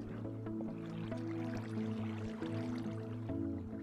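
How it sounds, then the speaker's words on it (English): Water trickles and drips into the hull of a ship in Minecraft with the Tekkit modpack, a soft, continuous stream of gurgling and dripping sounds heard alone at low volume. "Water flowing into the underbelly of the ship."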